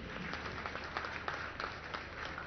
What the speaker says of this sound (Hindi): कुछ जरा तालियां हो जाए तो बहुत अच्छा है